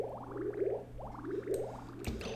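Water pours and gurgles through a video-game level built around a niobium volcano, with repeated bubbling, rising sloshes in steady waves against a low, constant hum, alone with no talk.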